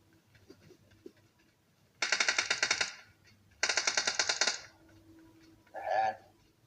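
Two rapid bursts of automatic gunfire in the BGMI mobile battle royale game, each about a second long, crisp and close, with quieter in-game sounds and a short clatter between them.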